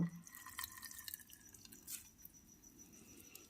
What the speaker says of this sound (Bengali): এরকমভাবে চেপে চেপে নিচ্ছি বিট থেকে সম্পূর্ণ রসটা বের করে নিয়েছি